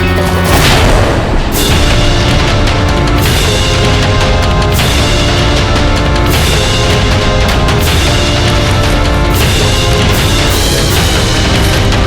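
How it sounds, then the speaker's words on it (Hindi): A huge explosion in a historical Indian TV drama about Maharana Pratap, a loud, continuous roaring blast with deep rumbling booms that fill the whole stretch under a dense layer of dramatic sound. "कितना जबरदस्त धमाका था।"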